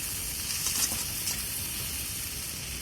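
Water spinach with salt and turmeric is stirred in a pan, giving a soft, steady sizzle with a couple of light scraping stirs, close but quiet.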